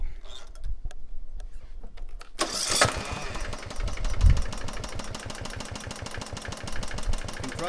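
Gravely 12.5 hp lawnmower engine running on hydrogen, with a weak battery: a few faint clicks, then the engine catches with a sudden roar and settles into a steady, close, pulsing idle.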